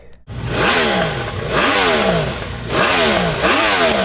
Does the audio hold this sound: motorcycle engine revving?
yes